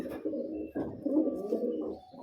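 A pigeon coos repeatedly up close, soft throaty rolling calls in several short bursts with brief pauses between, clear against a quiet background with no talk.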